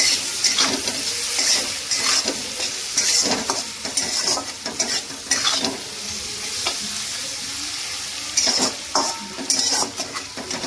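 Chicken is stirred in a hot pan with salt, turmeric and Kashmiri chilli powder, a loud continuous sizzle broken by repeated scrapes and clinks of the spoon against the metal, close up.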